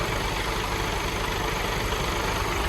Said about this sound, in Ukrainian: Так, дизельний двигун пуск.